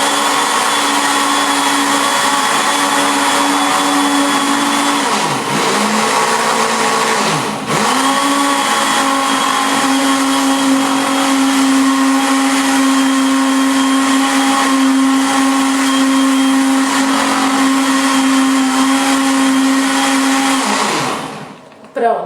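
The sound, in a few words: blender mixing cake batter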